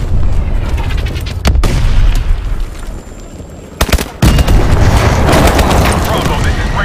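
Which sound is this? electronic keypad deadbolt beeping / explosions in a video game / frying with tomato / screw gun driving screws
explosions in a video game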